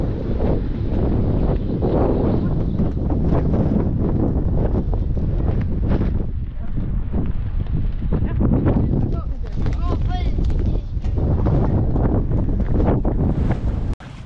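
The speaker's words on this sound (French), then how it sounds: "Alors il y a un vent, il y a toujours un vent à décorner les bœufs." A strong, constant wind buffets the microphone at a coastal fort in February, roaring and rumbling without pause, with voices faintly present under the gusts.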